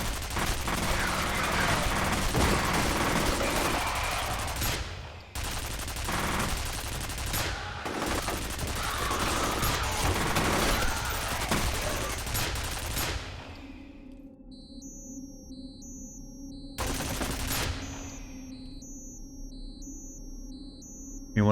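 Machine gun fire in the shooter game FEAR comes in long, loud sustained bursts with brief gaps between them, followed by quieter game ambience with beeping electronic tones and one more short burst near the end.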